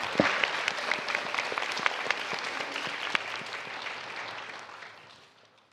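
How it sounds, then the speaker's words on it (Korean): Audience applause at a Democratic Party rally in Jeonbuk, Korea, a dense burst of clapping from a large crowd that holds steady and then tapers off near the end. "큰 박수 부탁드리겠습니다"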